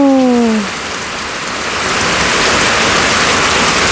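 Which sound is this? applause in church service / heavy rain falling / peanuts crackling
heavy rain falling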